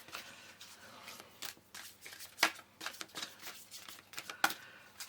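Tarot cards are handled and shuffled up close, with soft, quick papery riffles and a couple of sharper snaps as another card is drawn.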